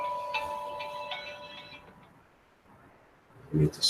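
A phone rings with a repeating electronic ringtone for a couple of seconds, then falls silent over faint room hiss before a brief, close knock.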